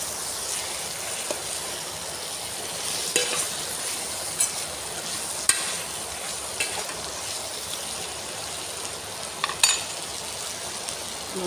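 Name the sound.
stirring carrot and potato in rice cooker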